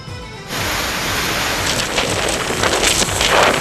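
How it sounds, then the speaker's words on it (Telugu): Heavy rain pours down steadily in Andhra Pradesh, a loud, dense wash of drops that starts suddenly and continues without a break, with gusts of wind mixed in and no voices. "ఏపీలోని పలు జిల్లాల్లో భారీ వర్షాలు పడుతున్నాయి"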